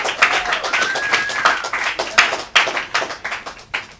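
At an open mic night, a small audience claps in a loose, uneven patter of individual hand claps, fairly close and with distinct sharp hits rather than a dense roar.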